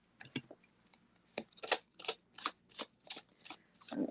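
A new deck of playing cards being shuffled by hand in a quiet room, with a series of crisp riffling bursts at a steady rhythm and no talk.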